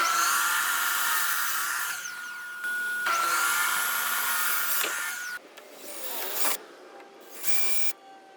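A vacuum cleaner whines steadily with a high motor tone while cleaning an aluminum boat during restoration, cutting in and out several times and dropping to quieter, choppier bursts near the end.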